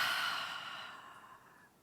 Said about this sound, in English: Exhale.